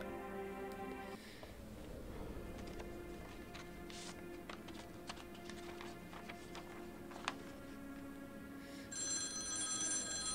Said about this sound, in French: Ah, bien sûr, le téléphone sonne.